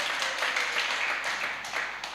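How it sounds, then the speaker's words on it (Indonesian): A church congregation claps during a worship service, a soft, continuous patter of many hands with faint irregular accents throughout. "Yang mau tepuk tangan silahkan tepuk tangan saudara."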